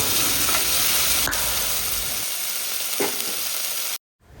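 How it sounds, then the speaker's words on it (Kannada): Ginger garlic paste fries in hot ghee for a mutton ghee roast, giving a loud, steady sizzle with a few stirring scrapes. It runs close and unbroken for about four seconds, then cuts off abruptly. "ಅದನ್ನು ಚೆನ್ನಾಗಿ ಗೀಯಲ್ಲಿ ರೋಸ್ಟ್ ಮಾಡ್ತಾ ಇರಬೇಕು. ಒಂದು 2 ಮಿನಿಟ್ಸ್ ಫ್ರೈ ಆದರೆ ಸಾಕು."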